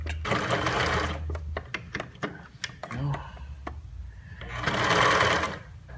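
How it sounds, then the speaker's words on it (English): A sewing machine stitches silvery satin piping onto a Star Trek: First Contact spacesuit, with steady mechanical whirring bursts at either end and sparse clicks and handling noises in the pause between. "I'm sewing all these detailed pieces onto the jumpsuit"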